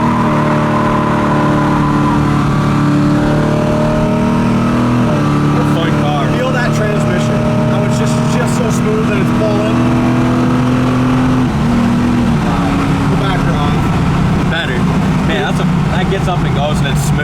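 A 1970 Camaro's engine hums and rises in pitch as it accelerates from a stop, shifting gears twice, with a voice talking over the steady drive.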